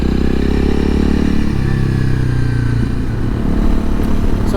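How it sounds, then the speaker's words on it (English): Honda CRF300 Rally motorcycle exhaust drones loud and close while riding on a road, the engine note steady and throbbing, dipping and shifting as the revs change, with wind rushing over it. "I found that actually I can really notice the exhaust"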